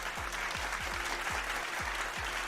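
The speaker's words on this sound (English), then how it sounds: "Do the applause." Canned applause effect cued on request, a steady wash of many hands clapping that runs loud and unbroken for the whole stretch, with no talk over it.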